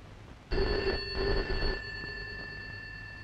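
A telephone rings in a Malayalam movie scene. Loud, clear, steady bell tones start after half a second, fade and return in two or three bursts, and a low murmur runs underneath.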